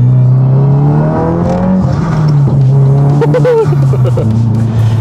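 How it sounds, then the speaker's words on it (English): Inside a moving 2022 Subaru WRX fitted with a titanium exhaust, a steady low engine drone fills the cabin, rising and falling slightly with the throttle, while a voice talks over it. "This is what the cabin noise sounds like right now."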